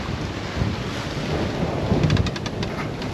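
Strong 24-knot wind buffets the microphone on a sailboat crossing from Morocco to Spain, a dense, steady roar with surging gusts and sloshing sea beneath.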